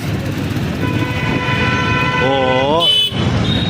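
Karnataka state bus sounding its horn as it passes through busy evening traffic in Mahabubnagar, a loud wavering tooting horn over steady engine and road noise near the end, with other traffic sounds throughout.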